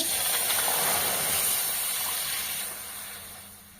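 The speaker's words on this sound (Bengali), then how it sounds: "কড়াইটা চাপিয়ে দিয়েছিলাম গরম হয়ে গেছে এখন আমি জল দিয়ে দিচ্ছি" Water poured into a hot wok while making peanut khaja, giving a loud, steady broadband hiss of steam and spray that fades slightly near the end.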